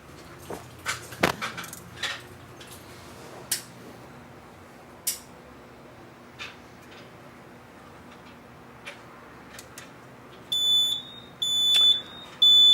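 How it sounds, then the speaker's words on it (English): A building fire alarm beeps in sharp, bright repeated tones near the end, after scattered clicks and clacks of a pull station or panel being handled in a quiet hallway. "As you can see, there's an alarm."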